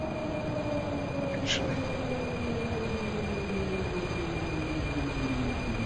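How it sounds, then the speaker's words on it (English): A subway train in the WAPP Subway Simulator video game brakes hard on a tight approach near Náměstí Míru, a steady rumbling roll with falling squealing tones and a brief high screech, while someone speaks briefly. "Now I'm having to stand on the brakes"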